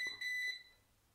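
Two quick high-pitched electronic beeps sound from an alarm device in a quiet room, then fade into near silence.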